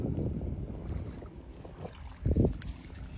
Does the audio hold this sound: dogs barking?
no